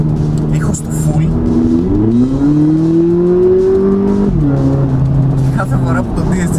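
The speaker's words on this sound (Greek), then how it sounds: "Κάθε φορά που το DSG κάνει αυτά τα ανεβοκατεβάσματα, ακούς όλων των ειδών τα σκασίματα και αυτό το από την εξάτμιση" A Volkswagen Polo GTI hot hatchback, 200 hp with a DSG gearbox in Sport mode, revving up and down through gear shifts, its engine tone rising then dropping sharply, with faint exhaust crackles as someone talks over it.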